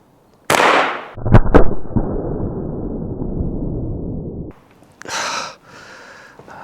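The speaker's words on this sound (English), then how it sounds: "Can't believe I'm shooting holes in a solar panel" Exploding pellets strike a BougeRV solar panel in a loud sharp bang that sets off a long crackling burst lasting several seconds, followed by a brief hiss and fainter crackle.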